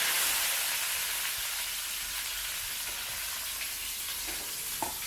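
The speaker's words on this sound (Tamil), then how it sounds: "இதெல்லாம் பொரியும் போது புதினாவை சேர்த்துட்டு" Mint leaves fry with spices in hot oil, giving a steady, loud sizzle and hiss close by, with a faint stir or clink near the end and no talking.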